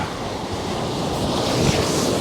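Strong wind roars over the microphone while waves wash steadily against the shore at Beesands beach in a continuous rushing noise, in wet weather.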